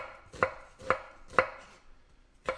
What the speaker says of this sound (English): Can't touch my face, and only because I'm cutting onions.